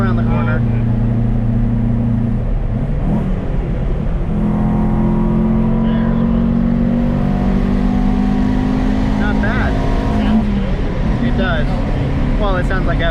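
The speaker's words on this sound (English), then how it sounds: "sounds like every other Japanese car" A cheap Nissan junker's engine drones steadily as the car climbs a mountain road, its pitch rising and falling with revs while people talk over it throughout.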